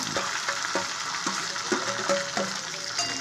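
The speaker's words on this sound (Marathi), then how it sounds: "वांगे टाकून घेतल्यानंतर चांगल्या प्रकारे 2 ते 3 मिनटं चांगलं परतून घ्यायचं आहे." Stuffed brinjals with curry leaves sauté in a hot pan, a steady close sizzle broken by repeated scraping stir strokes at an uneven rhythm, with no voices over it.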